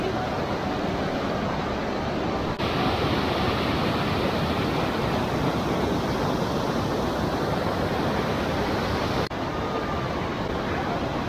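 A loud, steady rush of a waterfall at Little Yosemite in Sunol, California, roars without pause, a dense broadband wash close by with no break in its intensity.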